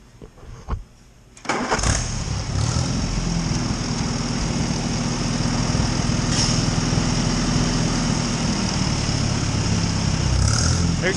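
An Allis Chalmers WD45 tractor engine cranks and catches after about a second and a half, then settles into a loud, steady, close running note with a deep low rumble that continues to the end.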